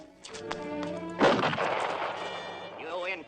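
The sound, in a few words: gunfire in a Zorro TV episode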